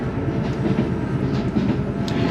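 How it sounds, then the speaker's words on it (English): Train on the line from Inverness east to Aberdeen in the Scottish Highlands, with a steady, continuous rumble of wheels and carriage noise heard from on board, no talking. "I'm changing for this train at Inverness and I'm going east to Aberdeen"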